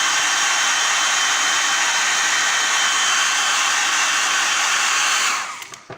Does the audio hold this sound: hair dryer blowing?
yes